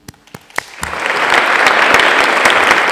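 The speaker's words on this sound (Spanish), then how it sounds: "Un agradecimiento y un fuerte aplauso para el profesor Yang Song." Audience applause for Professor Yang Song at a Spanish-language academic congress, starting with a few isolated claps and swelling within a second into loud, sustained clapping from a full room.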